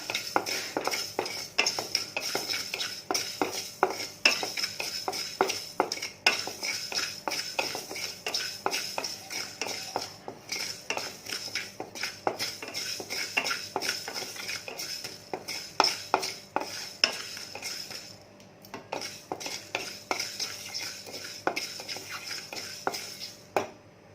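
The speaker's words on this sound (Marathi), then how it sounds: "मंद आचेवर मी ह्याला भाजून घेते मेथीला" Fenugreek seeds dry-roasted on a low flame in a pan, stirred steadily with a spoon, giving a continuous close run of light scraping and rattling clicks with no voices.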